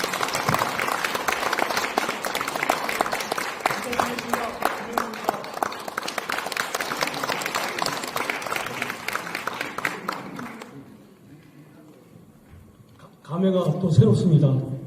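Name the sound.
audience applause welcoming a speaker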